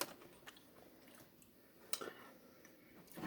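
Faint, sparse crunches and chewing of Go Smart Avocado Ranch corn tortilla chips during a taste test, a few crisp bites scattered over quiet background with no talk.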